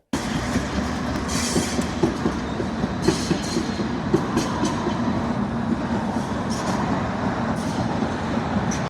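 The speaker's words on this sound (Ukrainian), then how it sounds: "Наш об'єкт знаходиться біля лінії швидкісного трамваю." A high-speed tram passes by outside an apartment window near an industrial zone, giving a continuous rumbling roll with rhythmic clicks of wheels over rail joints and occasional metallic squeals, steady and fairly loud.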